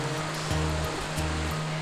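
Rushing river rapid water at the water's edge, a steady broadband roar with low boat-like engine hum tones underneath, continuous and fairly loud throughout.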